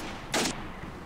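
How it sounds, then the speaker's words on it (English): A single short burst of gunfire from a firefight in the S.T.A.L.K.E.R. video game, in the Red Forest, lasting about a fifth of a second over steady background noise. "over the noise of gunfights and so on"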